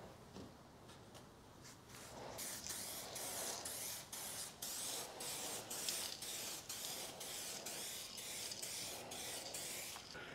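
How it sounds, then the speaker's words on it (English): Aerosol can spraying clear coat onto a car's passenger-side headlight, a series of short hissing bursts in a quick rhythm, close and fairly quiet, with no talking. "Now we just sprayed our passenger side"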